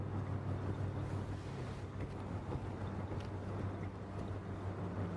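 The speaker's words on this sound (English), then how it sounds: "The sound of the fan is constantly playing, drawing subconscious attention to it." Steady whooshing hum of a spinning fan in a video game, with a low droning tone, continuous and unchanging throughout, no voices.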